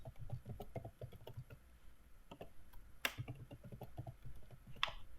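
Someone types a password on a computer keyboard, producing a quiet, rapid run of small key clicks. A couple of sharper taps stand out, all faint and close, with no talking.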